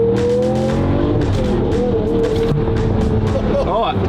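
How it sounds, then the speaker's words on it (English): A twin-turbo Lamborghini Murcielago SV drives on a rough winter road in eastern Poland. The engine drones loud and close, and a brief turbo blow-off valve chirp comes near the end, with voices talking over it. "Oh, I heard a blow off valve."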